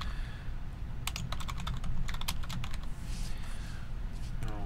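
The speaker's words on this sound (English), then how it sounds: "Now I'm using my keyboard" Quick, irregular clicking of keys as someone types on a computer keyboard, the keystrokes close and crisp over a constant low electrical hum, coming in busy bursts with short pauses.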